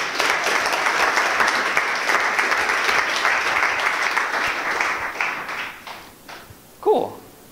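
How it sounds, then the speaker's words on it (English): Audience applause in a conference Q&A hall, steady dense clapping for about six seconds that thins and fades out, followed by a brief voice near the end. "So round of applause for those guys,"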